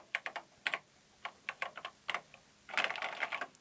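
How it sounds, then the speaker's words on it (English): Keys clack on a Commodore 64 Ultimate mechanical keyboard, close and crisp, first as separate presses in an uneven rhythm, then a quicker burst of typing at the end. "the keyboard feels good"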